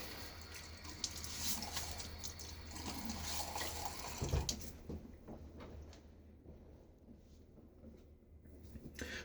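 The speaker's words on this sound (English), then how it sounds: "start off by getting my face a little wet" A tap runs into a sink while a face is splashed wet before a shave; the flow is close and splashy at first, then drops away to quieter dripping and movement.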